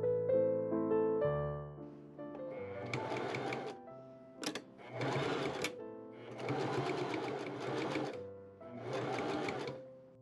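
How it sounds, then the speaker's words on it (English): Close machine stitching of bias tape onto a tartan flannel jacket comes in four bursts of rapid stitching separated by brief pauses, following a few soft tonal notes at the start. "I machine sew 1/4 inch from the edge of the bias tape."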